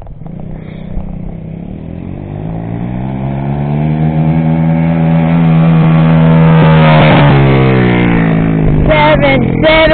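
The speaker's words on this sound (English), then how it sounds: "That was that motor, Jared." Honda CRF 50 or Coolster 50 pit bike engine revving up and holding a buzzing, rising whine close by, building in loudness before easing off with a brief clatter.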